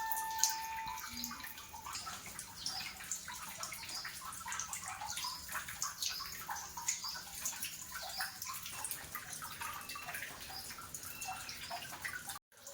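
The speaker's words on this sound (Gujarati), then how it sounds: "પાણી એમ ટપક્યા જ રાખે, એટલે ઝરિયા મહાદેવ કહેવામાં આવે છે." Water drips and trickles continuously inside the rock cave shrine of Zariya Mahadev temple at Chotila, a soft, steady, echoing patter of drops and light splashing with no talking.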